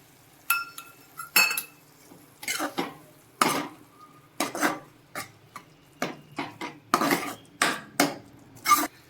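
A spoon stirs jaggery into a thin vegetable curry of taro leaves in a pot, making a series of sharp metallic clinks and scrapes against the vessel in irregular bursts, close and clear with quiet gaps between.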